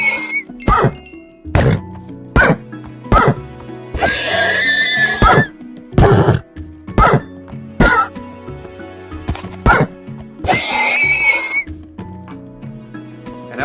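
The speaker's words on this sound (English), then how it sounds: "I hate horses!" Minecraft horses neigh and whinny repeatedly, several loud close whinnies interleaved with sharp thunks and game clicks, in an uneven rhythm across the stretch with no talking.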